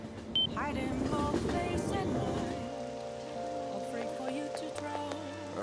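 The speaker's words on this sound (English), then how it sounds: "When's the rain gonna let up?" Steady rainfall in Persona 5 Royal, a soft continuous patter on surfaces lying low beneath game music and tones, faint and even throughout.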